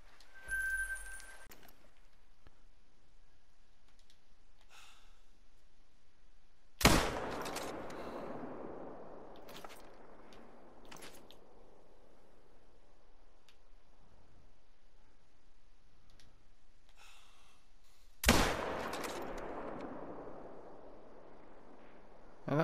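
Two loud, sharp rifle shots, roughly eleven seconds apart, crack out during a sika deer hunt. Each leaves a rolling echo that fades into a quiet outdoor background, with faint clicks between the shots.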